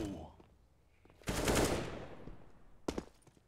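Bursts of rapid gunfire in a CS:GO pro match on the Mirage map: one loud volley near the start, then a shorter sharp burst later, with quiet stretches between.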